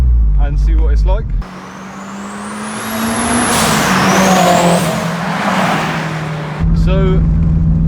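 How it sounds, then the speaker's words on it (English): Turbocharged Honda S2000, turbo fitted at home, cruising on the road: a loud, steady engine drone and road roar building to a high whistling rise, with short spoken bits at the start and end. "We are now out in his S2000 and we're just going to cruise around for a bit"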